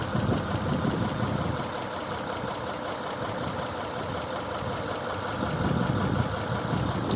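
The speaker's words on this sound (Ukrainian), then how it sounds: "Ось робота двигуна. Наскільки рівно і тихо." The 3.0 V6 engine of a 2007 Mitsubishi Outlander XL, running on petrol and gas, idles steadily and smoothly, a low even hum with no revving, heard up close for several seconds.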